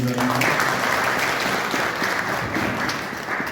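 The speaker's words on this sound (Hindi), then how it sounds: "उनके लिए भी एक बार जोरदार तालियां" Loud, sustained applause from a crowd at a Republic Day celebration follows a ghazal performance. Many hands clap in a thick, even wash for the full few seconds, with a brief tonal sound at the very start.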